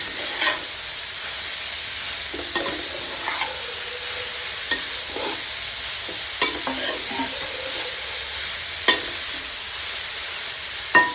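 Carrot halwa being stirred in a pan over a steady frying hiss, with scattered scrapes and knocks of the spoon against the pan. No one speaks.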